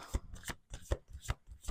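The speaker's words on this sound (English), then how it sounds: "Okay, last shuffle." Crisp riffling bursts of playing cards being shuffled, five quick repeated shuffles in a steady rhythm, close and fairly quiet.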